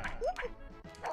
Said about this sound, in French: Ah, c'est un chien, maintenant.